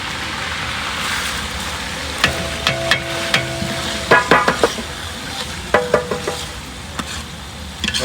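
Ginger, garlic, chillies and tomatoes frying in a pan for a potato curry, a soft steady sizzle with a series of sharp spoon taps and scrapes against the pan in the second half.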